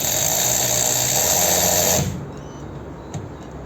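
A Keelat KRW003 cordless ratchet tightening, a loud, steady close motor whine for about two seconds that cuts off abruptly, followed by quiet room sound with a faint click.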